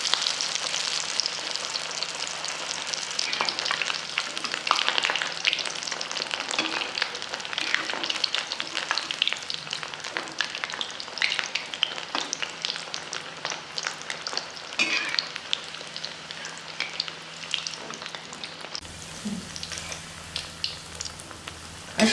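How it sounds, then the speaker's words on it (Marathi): Cabbage vadi (kobi vadi) fry in hot oil with a dense, steady crackling sizzle that stays close and loud throughout, with no voices over it. "आता आपण वड्या तळून घेऊ."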